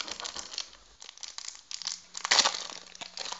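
Crinkly tearing and ripping of packaging tape pulled off a parcel close by, in irregular bursts with a louder pull near the middle.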